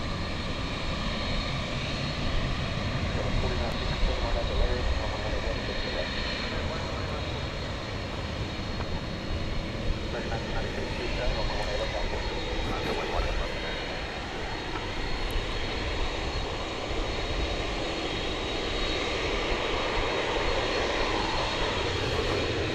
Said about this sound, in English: You can hear it in the background there. That's the whine of the tri-jet.